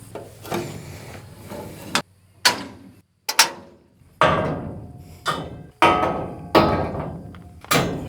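Metal ramps on a dump trailer being pulled out and set down, a series of about nine loud clanging bangs and thuds, each ringing briefly before the next.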